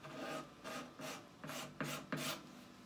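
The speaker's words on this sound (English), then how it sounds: "the sandpaper will probably take that all away" Sandpaper rubbing along the wooden neck of a Harmony Monterey archtop guitar, six rhythmic rasping strokes, close and fairly quiet, with no talk.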